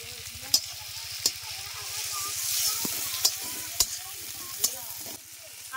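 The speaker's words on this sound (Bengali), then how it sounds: "আদা বাটা দিয়ে দিচ্ছি," Ginger paste frying in a pan with tomato, onion and garlic for an egg curry, a steady close sizzle broken by sharp clicks of a utensil scraping and stirring every second or so, with a low constant hum beneath.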